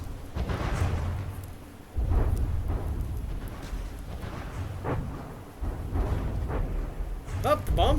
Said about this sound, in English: Oh, the bombs. Some of the bombs are getting in there.